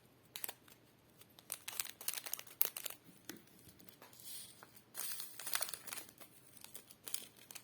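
Close scissor snips and crinkling plastic as a small bag of diamond painting drills is cut open, irregular short cuts and rustles in a quiet room.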